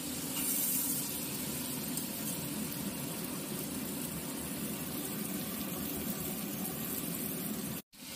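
Chili and vegetables fry in a pan for a small kachki fish curry, giving a steady, even sizzling hiss that holds without a break before a brief cutout near the end.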